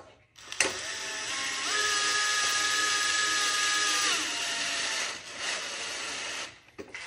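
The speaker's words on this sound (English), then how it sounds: "Just take yourself a 1/2 inch wrench, set it on there." Power tool whirring steadily on a GTX 300 Limited seat bolt, a 1/2 inch socket driven for several seconds with a rising whine, then stopping and briefly restarting; close and fairly loud, no talk.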